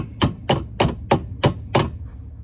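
Six evenly spaced, sharp hammer taps drive a Club Car golf cart upper A-arm part into place, loud and close with a steady rhythm, then silence.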